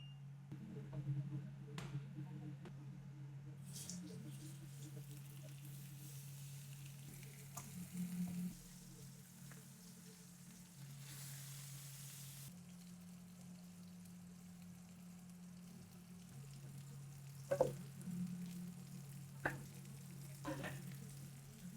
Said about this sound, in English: I put some of the ghee in this pan, getting ready to cook the lamb.